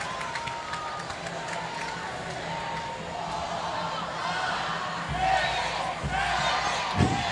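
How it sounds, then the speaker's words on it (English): A stadium crowd at a women's professional soccer match chants in unison, a broad roar of voices that swells louder partway through and carries under a commentator's talk. "they asked for more energy from the crowd, and now they're getting it with the counting"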